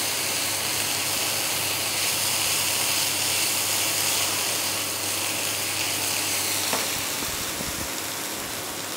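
A peas mixture fries in a pan, giving off a dense, continuous sizzle with a faint grinding, ratchet-like stirring texture. The sound tapers slightly near the end.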